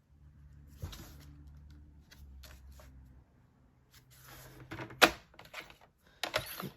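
A paper trimmer slices a sheet of 8.5 by 11 inch cardstock with one short, sharp cut partway through, surrounded by quiet handling and paper rustles close by.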